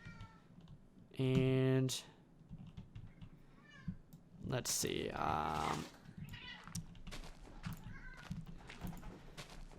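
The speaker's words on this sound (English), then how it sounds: "Yeah, my cat is officially going insane." A pet cat meows in a few short, loud calls among scattered clicks and rustling, with a person speaking briefly nearby.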